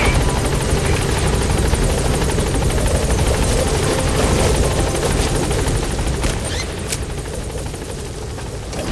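In Metal Gear Solid V, a helicopter arrives at a landing zone with a loud, continuous rotor chop and engine roar that stays close and steady, easing slightly near the end, with no talk over it.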